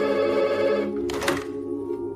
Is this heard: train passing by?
no